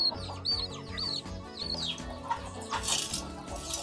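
Several chickens cluck and chirp at a rural farmyard, sharp repeated calls over a low, busy background, close and moderately loud with no talking.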